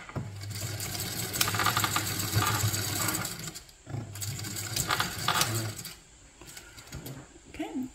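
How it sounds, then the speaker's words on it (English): Sewing machine stitching a fabric seam at a 3/8 inch allowance, its motor whirring steadily in two runs separated by a short pause, close and fairly loud. "we're going to sew this at a 3/8 of an inch seam allowance"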